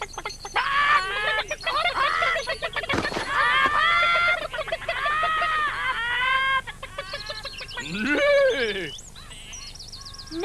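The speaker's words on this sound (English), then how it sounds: "mind you don't cluck too much" Cartoon hens in a toy farmyard cluck and squawk in a busy, overlapping flock, with bright warbling calls running almost continuously, loud and close, rising into a louder burst of squawks near the end.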